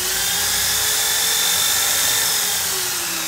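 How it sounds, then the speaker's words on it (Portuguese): A corded electric drill, locked on with its side button, runs continuously at high speed. It is a loud, steady whine with a constant pitch and no pauses, close up, and no one speaks. "liguei a furadeira, tem esse botão aqui do lado aqui, ó, assim que eu apertar o gatilho e apertar esse botão,"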